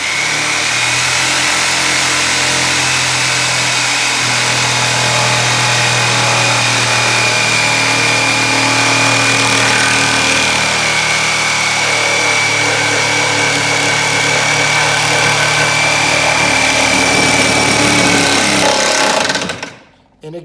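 A jigsaw cuts through material with a loud, steady, close buzzing whine that holds for most of the stretch, then cuts off abruptly near the end.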